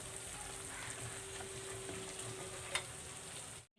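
Khurma sweets sizzle in a pan of oil, a steady soft crackling hiss up close, broken once by a brief sharp tap of a utensil before the sound cuts off.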